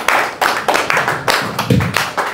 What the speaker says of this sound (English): Guys, give him a big round of applause